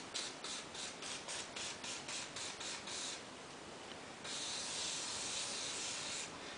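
Tri-Flow lubricant sprays into a Briggs and Stratton overrunning clutch in a run of short hissing bursts, then one longer continuous hiss, faint and close.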